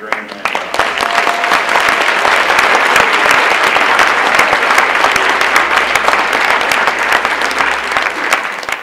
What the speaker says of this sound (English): So a round of applause for Graham Hancock.